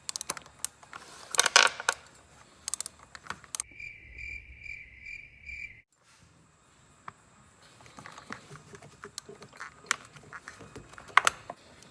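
A hand ratchet works on a spark plug in a Honda/Acura V6 engine bay, sounding as quick bursts of sharp clicking near the mic, separated by a steady tonal hum and quieter gaps.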